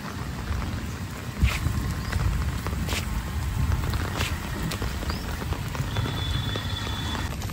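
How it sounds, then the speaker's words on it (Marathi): Steady rain falls during a monsoon downpour, a soft continuous hiss with scattered drop taps and a few brief louder knocks, fairly quiet and close. "पाऊस काय थांबायची उसंत घेत नाही आहे"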